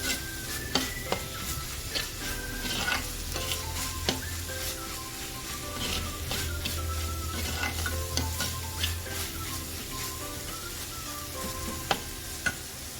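Chopped spinach stirred in a hot sizzling pan, continuous frying hiss with repeated scraping strokes and occasional sharp taps of the spoon against the pan; no talking.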